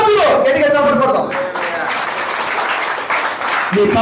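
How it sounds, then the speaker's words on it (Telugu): A church congregation claps loudly and steadily in a dense, continuous patter, while a preacher's voice carries over the top throughout. "గట్టిగా చప్పట్లు కొడతాం"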